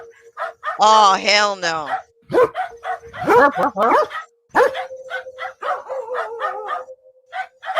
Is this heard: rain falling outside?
no